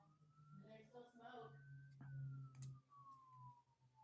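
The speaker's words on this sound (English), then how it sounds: "I hear a lot of sirens now." Distant emergency vehicle sirens wail faintly, one tone gliding slowly downward, while a person speaks nearby and smoke hangs in the air outside.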